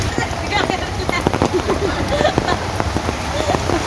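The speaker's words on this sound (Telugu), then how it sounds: "కుండపోతా వాన ఇదే కావచ్చు ట్వంటీ ఫోర్ అవర్స్ అసలు ఇంత గ్యాప్ ఇవ్వకుండా కొట్టింది" A heavy monsoon downpour in Mumbai pours steadily, drops pattering densely on hard surfaces, with faint voices mixed into the continuous roar.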